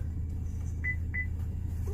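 Two short, clear electronic beeps a moment apart from setting the seat memory in a 2019 Chevrolet Equinox AWD, over a steady low engine hum, followed by a faint soft chime.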